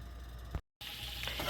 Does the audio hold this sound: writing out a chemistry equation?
no